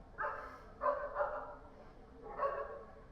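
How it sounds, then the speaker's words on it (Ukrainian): Several dogs barking at a distance outdoors in a quiet residential setting, a few short bursts of barks spaced irregularly, faint and alone without talk. "Тільки собачки там десь гавкають"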